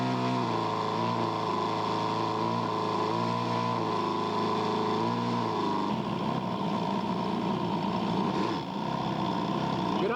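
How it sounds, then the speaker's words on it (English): A twin-cylinder full expansion model aircraft engine running on 15% fuel at a scale aircraft show, a loud steady drone throughout that settles slightly partway through, close to the listener. "There it is, a full expansion engine, not a rotary."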